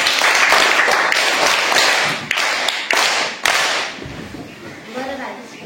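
Schoolchildren clap for a classmate during a village primary school quiz, a burst of group applause that thins into a few scattered claps and dies away, with voices heard near the end.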